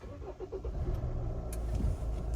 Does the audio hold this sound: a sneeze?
no